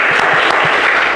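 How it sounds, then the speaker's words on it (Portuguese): A church congregation claps together during a Mother's Day communion service, a dense continuous wash of applause filling the short moment with no pause. "Para o Senhor Jesus uma linda salva de palmas, amém?"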